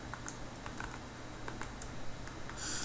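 Quick, light button presses on a calculator, a run of short soft clicks at an uneven rhythm over a low steady hum, close by with no talking.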